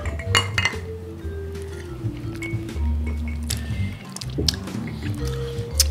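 Glasses clink together in a toast of El Amo Premium Añejo tequila: a few bright, sharp clinks over soft handling noises and low room sound, with no talking.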